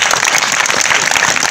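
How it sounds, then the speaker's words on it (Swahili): Audience applause filling the room, dense and steady throughout with no break, close and loud. "Tumpigeni makofi."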